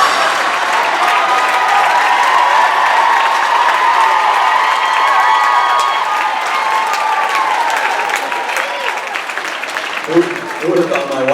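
Loud crowd applause with some cheering at a comedy show of jokes and stories, a dense steady roar of clapping that holds for about ten seconds before a voice cuts in at the end.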